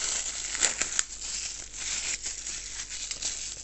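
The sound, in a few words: rustling plastic bag of budget GoPro tripod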